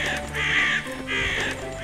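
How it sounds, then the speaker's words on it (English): Crows caw twice in the video game Zoo 2 Animal Park, two loud, harsh, drawn-out calls close by, separated by a brief gap over a quiet game background. "The crows are eating my animal's food. Please help me chase them away."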